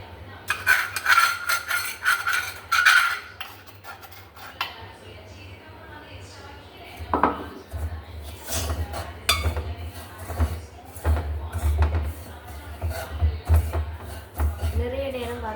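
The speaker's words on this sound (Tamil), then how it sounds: "இப்போ பார்த்தீங்கன்னா சட்டி சூடாகிட்டு நாங்கள் இனி ரவையை கொட்டி வறுப்போம்." Dry semolina being roasted and stirred in a hot pan for rava vada, heard as scraping and clinking strokes of a utensil against the metal, fairly close, with intermittent thuds and no talk over it.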